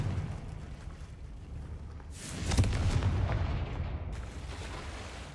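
A fiery spell blast in Hogwarts Legacy bursts with a deep boom and a roaring rush that trails off, heard over a low rumbling game background.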